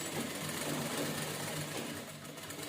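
A sewing machine stitches a round fabric key holder, a fast, even mechanical whirring that runs continuously and fades slightly near the end.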